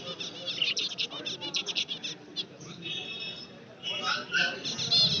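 Bengalese finches at a busy pet market on a Sunday give rapid, close chirps and trills that come and go in bursts, mixed with nearby talking.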